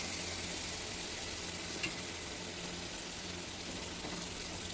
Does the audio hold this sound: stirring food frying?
yes